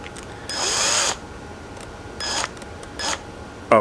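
A power drill bores into a lawnmower wheel near its half-inch axle: one longer whirring burst, then three short spurts, close and loud with quiet gaps between.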